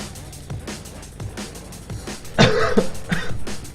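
A person coughs repeatedly up close, a series of rough hacking bursts that grow louder and harsher toward the end.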